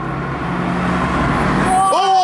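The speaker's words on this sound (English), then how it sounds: "The next car that's gonna come will be white." A car drives past on a road, a broad rushing roar building and fading with a brief squeal near the end, while a person talks over it.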